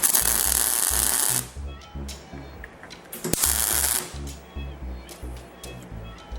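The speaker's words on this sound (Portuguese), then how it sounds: "Vou dar um primeiro ponto de solda aqui." Tack welding on a car alternator bracket gives loud, harsh crackling and sizzling in two long bursts, with a sharp snap between them and steady buzzy noise throughout, close up.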